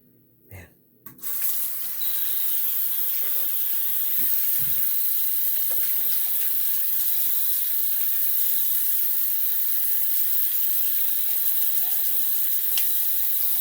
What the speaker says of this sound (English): Let me rinse this off, okay?